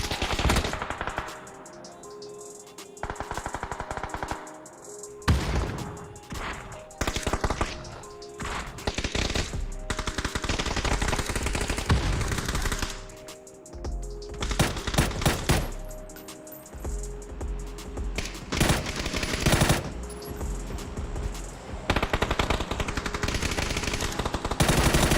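Rapid automatic gunfire rattles through a ranked online shooter match, long loud bursts and fusillades with brief pauses between volleys, dense and close throughout.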